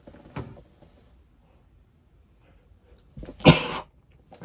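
A single sharp sneeze bursts out near the close, preceded by a quick intake of breath, in a quiet indoor podcast recording with only faint background noise otherwise.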